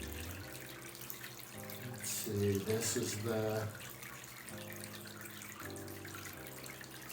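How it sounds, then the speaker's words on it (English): Water is poured onto a potted good luck plant, an anthurium, making a running, splashing trickle that swells in the middle and then eases, while a person speaks briefly over it. "put some water on it"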